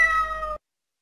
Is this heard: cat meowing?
yes